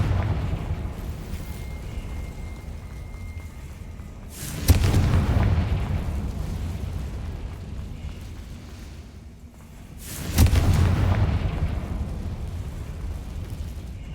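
Two Confringo explosion spells go off in Hogwarts Legacy, each a loud booming blast with a long rumbling decay, spaced several seconds apart over a low ambient game soundscape.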